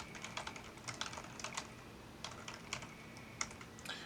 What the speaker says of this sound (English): In the address field, we'll type the address for where VMware vCenter lives.